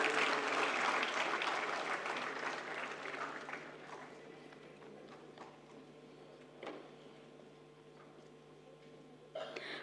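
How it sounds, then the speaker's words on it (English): A roomful of people at an award ceremony at an intellectual property conference clap loudly, the applause fading over a few seconds into a quiet hall with a faint steady hum and occasional stray sounds. "I want a roaring round of applause."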